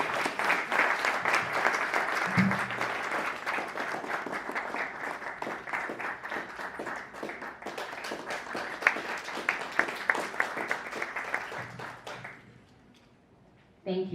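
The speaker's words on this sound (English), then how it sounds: "Let's keep clapping until she comes to the stage." Sustained applause from a panel discussion audience carries on for about twelve seconds as a panelist walks to the stage, dense and even before dying away; a voice speaks briefly partway through and again at the end.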